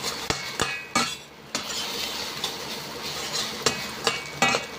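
Beaten egg is stirred and scrambled in a hot pan, with a steady frying hiss broken by several sharp scrapes and clanks of a utensil against the pan at irregular intervals, with no voices.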